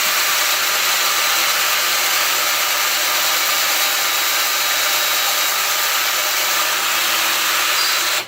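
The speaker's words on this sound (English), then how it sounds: "Drill that all the way through." A loud, continuous high-pitched whirring grinds on steadily for several seconds, like a power drill boring through material, with no speech.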